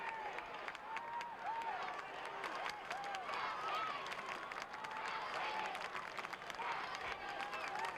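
South Sydney supporters in a crowd of about 10,260 at a 1990 rugby league match against Manly cheer and applaud, a distant, steady roar with scattered clapping and whistles, faint and continuous throughout.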